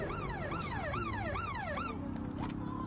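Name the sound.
police sirens in Watch Dogs Legion video game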